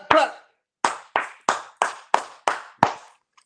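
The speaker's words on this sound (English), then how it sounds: "Just clap your hands a little louder." About eight sharp hand claps in unison, evenly spaced and echoing in a large room, with brief silences between them.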